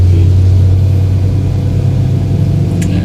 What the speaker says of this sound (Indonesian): kalau RPM-nya udah sampai di angka 3 kan, suara mesin udah kasar